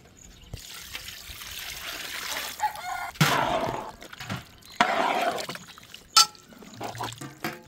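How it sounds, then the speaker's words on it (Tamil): Water in which chicken meat was soaked is poured into a pot while making a thick Tamil-style country chicken curry, giving a few splashing, trickling bursts up close amid faint kitchen clatter. "கறி ஊறின தண்ணி."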